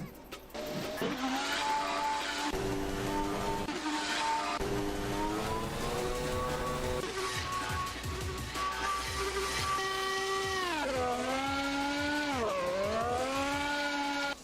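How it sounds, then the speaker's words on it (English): A Toyota Trueno's engine revs hard and high-pitched, its whine climbing, holding and swooping down through the gears like a Formula 1 engine, loud and close with no talking. "It literally sounds like an F1 engine, almost."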